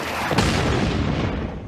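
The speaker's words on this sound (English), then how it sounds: "launching Sidewinder missile" A Sidewinder missile launch and explosion from a film soundtrack: a loud, dense broadband roar swells in, with a sharper blast hitting about a third of a second in, then a sustained heavy rumble rolling on to the end.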